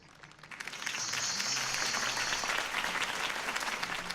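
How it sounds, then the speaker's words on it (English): Crowd applause swells in during the first second, then holds as a dense, steady roar of clapping with no voices, in the video game Batman: The Telltale Series. "could have heard that applause"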